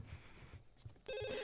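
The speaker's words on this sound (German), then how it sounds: "Das Telefon läutet gerade." A telephone rings in The Sims 2, a steady electronic bell tone that cuts in sharply over soft background game music and continues to the end.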